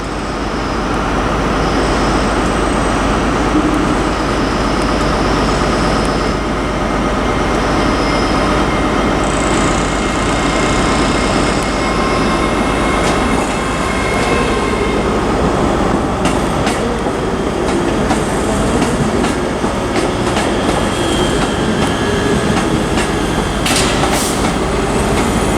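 A ScotRail Class 385 electric train departs Glasgow Queen Street station on a service to Stirling, giving a steady loud rumble with wheel and rail noise and faint clicks in the station.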